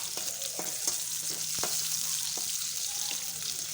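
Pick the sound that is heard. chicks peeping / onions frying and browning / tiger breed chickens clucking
onions frying and browning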